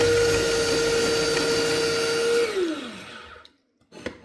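A Tefal MB756G31 electric vegetable slicer whirs with a steady motor whine while shredding carrot, then spins down with a falling pitch and stops, followed by a couple of light clicks; close and loud, with no talk.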